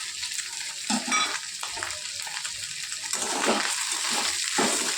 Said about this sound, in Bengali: বিউলির ডালটা দিয়ে বেশ ভালো করে একটু ভাজা ভাজা করে নিই।